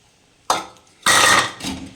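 Tamarind water is poured into a simmering village-style sankara fish kuzhambu, giving two short splashing bursts: a brief one followed by a longer rushing pour that tails off.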